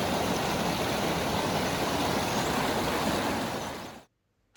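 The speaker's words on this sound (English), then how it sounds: "listening to the melody of the gushing sound of the water" Steady, loud rushing of a fast-flowing river near Manali, Himachal, fills the air continuously, then cuts off abruptly near the end.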